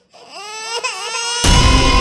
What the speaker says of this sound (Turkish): bebek ağlama sesi